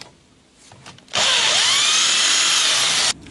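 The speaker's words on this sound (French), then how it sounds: "Perçage," A power drill bores through sheet metal for a custom-made panel on a Citroën Traction 11B, whining loud and steady for about two seconds after a brief quiet lead-in.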